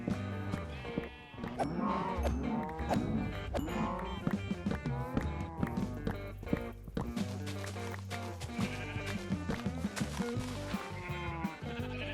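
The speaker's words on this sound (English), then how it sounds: "We're probably gonna have to slaughter a bunch of cows and sheep here" Sheep bleating in Minecraft, heard amid a dense, continuous bed of game music and layered tones that runs throughout, the bleats not clearly separable from the busy soundtrack.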